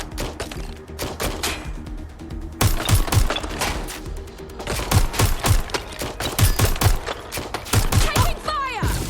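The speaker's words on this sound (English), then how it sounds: "Taking fire! They've got me pinned." Gunfire in Watch Dogs Legion, repeated loud bursts of rapid shots and single cracks in clusters, with brief voice lines between volleys.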